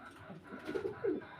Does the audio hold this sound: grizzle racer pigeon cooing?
yes